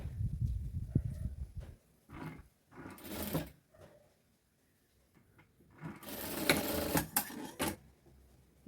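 A sewing machine stitches a folded pant hem as the pants are shortened, in two separate runs of rapid whirring separated by a quiet pause, with softer handling noise at the start.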